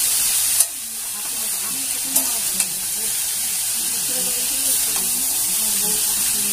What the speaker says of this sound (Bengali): দেখো আলুর সঙ্গে বাঁধাকপিটা একটু ভালো করে ভেজে নিচ্ছি।